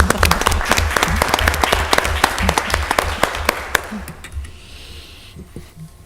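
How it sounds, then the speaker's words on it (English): Attendees at a Mobile County Commission meeting clap with sharp, distinct claps that thin out and fade away after a few seconds. "Let's give her a round of applause, everybody."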